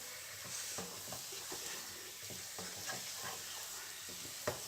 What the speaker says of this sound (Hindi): जो इसे अच्छे से मिक्स करेंगे और 3 से 4 मिनट इसे और पका लेंगे